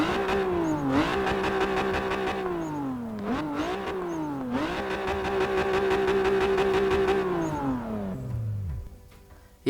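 A car engine in the racing game Forza Motorsport 6 revs loudly and repeatedly, climbing and dropping in pitch through several throttle blips before winding down and cutting off near the end.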